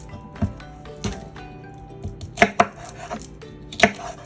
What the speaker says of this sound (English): Let's chop up our okra.